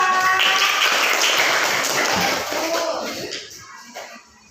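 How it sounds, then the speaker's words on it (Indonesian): Students in a classroom clap for a group after its presentation, a loud burst of mixed hand claps that thins out and fades over the last second. "udah tepuk tangan kelompok 2"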